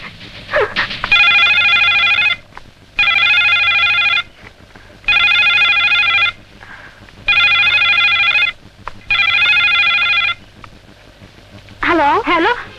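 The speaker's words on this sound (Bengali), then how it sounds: "মিলি, এতক্ষণ ফোন ধরিসনি কেন?" A telephone rings loudly in a Bangla film scene, five long electronic trills evenly spaced with short gaps, up close, followed by a brief voice at the end.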